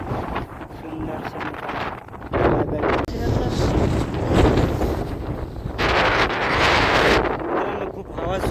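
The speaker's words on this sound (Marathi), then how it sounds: "मित्रांनो खूप हवा सुटली आहे." Strong wind on a hillside roars and buffets the microphone in loud, continuous gusts that swell and ease across the whole stretch, with someone speaking briefly amid the noise.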